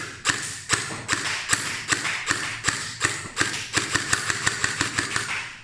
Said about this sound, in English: Let's give it a few firing shot.